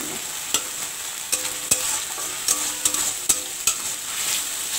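Fish roe frying in spice masala in a pan, with a steady close hiss and a series of sharp spatula scrapes and taps as it is stirred, alone with no voices.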